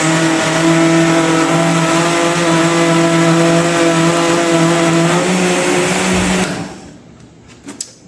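Blender whirring through homemade worm food runs as a loud, steady motor drone for about six seconds, then winds down and stops, leaving a few faint clunks.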